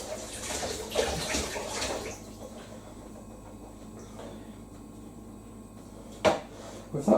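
Running water rinses surface mould out of a Zanussi Electrolux Aquacycle 1200 ZWF1221W washing machine, a close splashing gush that eases to a quieter trickle and then spurts again briefly near the end.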